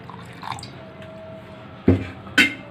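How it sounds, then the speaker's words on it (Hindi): Water poured into a bowl of yogurt and gram flour, two short splashy pours near the end after a quiet stretch with light drips. "इसमें डालेंगे थोड़ा पानी।"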